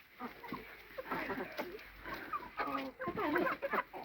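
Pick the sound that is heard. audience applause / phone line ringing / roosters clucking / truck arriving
roosters clucking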